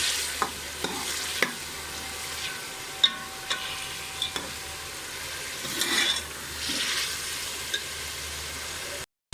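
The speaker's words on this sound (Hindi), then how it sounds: "अब हम इसको अच्छी तरीके से 1 से 2 सेकंड अच्छी तरीके से फ्राई कर लेंगे" Ginger garlic paste fries in a pan for an arvi masala curry, a soft steady sizzle under occasional spatula clicks and stirring taps, close and moderately quiet.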